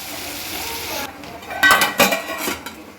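Guvar bhaji is stirred in a pan, a spoon scraping and clinking against the metal in several close, sharp strokes after a soft sizzling start.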